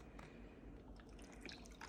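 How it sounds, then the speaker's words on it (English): Coconut water poured into a green smoothie in a home kitchen, a faint liquid trickle with small drip-like splashes over quiet background hiss, no talking. "I'm gonna add a little bit to that because,"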